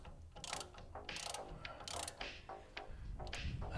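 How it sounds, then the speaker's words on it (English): A hand ratchet tightens bolts on car suspension bushings in a garage, its pawl clicking in rapid repeated bursts of strokes, close and crisp, with brief pauses between pulls. "Get these things close with the ratchet and then go in with the torque wrench."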